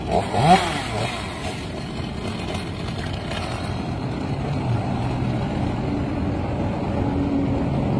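A chainsaw runs continuously at close range, its engine buzzing steadily as it cuts through a coconut tree trunk, with no pauses.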